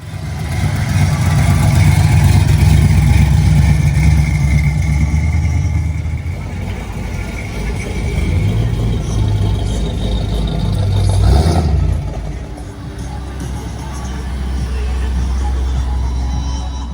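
Cars at a street rod show rumble past one after another, their engines rising and falling in pitch as each passes close by, then settling into a steady low idle drone.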